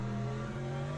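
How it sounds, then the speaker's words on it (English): A race car engine in a racing video game drones loudly with a steady, strained tone, held at high revs while engine braking and downshifting at Sebring, with no voices. "Sounds really unhealthy what I have to do to this engine to brake."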